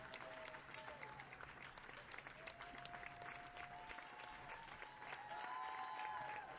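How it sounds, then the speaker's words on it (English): Crowd cheering and applause during the credits of the game Slay the Princess, a continuous faint wash of clapping and cheers under a sustained music tone, with no talk. "There's quite a lot of cheering, frankly."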